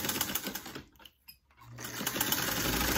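A vintage Singer sewing machine with a metal foot pedal stitches a seam, its fast motor whir running steadily, dropping out briefly in the middle, then resuming at full speed close by.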